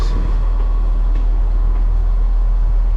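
A train in a German station gives a steady, loud, close rumble with low-frequency roar and faint rail noise, no voices.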